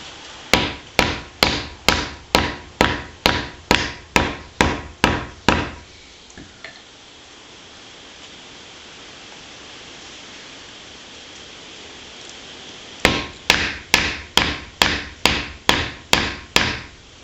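Hammer blows ring out against a seized Suffolk engine as the stuck piston is beaten loose, coming in sharp, evenly spaced metallic strikes in two loud bursts separated by a quiet stretch of low background noise.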